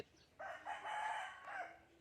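A single eight-month-old rooster crows nearby, one drawn-out call of about a second and a half against a quiet background.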